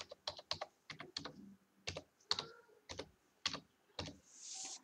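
A mobile number is tapped out on a computer keyboard in short, clustered keystrokes, crisp and close in a quiet room, with brief pauses between groups of digits.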